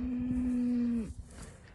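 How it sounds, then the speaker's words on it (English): A single cow in a field gives one long, steady moo that drops off sharply at the end, close and clear, followed by quieter rustling with no talking. "These cows are angry."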